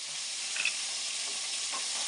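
Peanuts roasting in a pan for a gongura tomato chutney give a steady, even sizzle and faint rattle throughout, with a couple of brief stirring scrapes and no voices.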